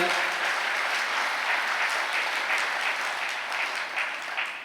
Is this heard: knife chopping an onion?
no